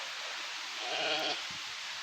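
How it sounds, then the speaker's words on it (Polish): Sheep bleating on a hay meadow during hay baling, a short wavering bleat near mid-distance over steady outdoor background noise, with no talk. "O, owce przyleciały."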